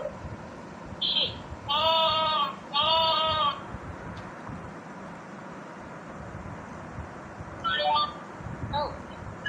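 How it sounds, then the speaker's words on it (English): A talking children's learning book plays recorded sheep bleats, two close bleats, then a shorter pair, each a small, fairly clear electronic sound over a faint background hiss. "Sheep."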